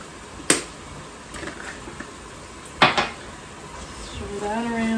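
Metal spoon knocking and scraping in a pot while crushed red pepper is stirred into goulash, two sharp clanks a couple of seconds apart with softer scrapes between and a voice starting at the end.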